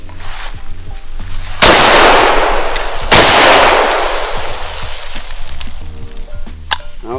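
Two loud AK-47 rifle shots about a second and a half apart at an outdoor shooting training range, each a sharp close blast with a long rolling echo, over a low background murmur.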